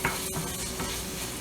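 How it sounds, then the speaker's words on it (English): Diced tomato cooking over low-medium heat in a pan, a steady sizzle and frying hiss with a stirring scrape near the start, close and continuous, without speech. "So we're just going to cook the tomato for like a minute."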